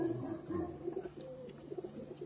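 Pigeons cooing on a rooftop where champion pigeons are kept, a soft, steady series of low, rolling coos heard fairly close with no talk.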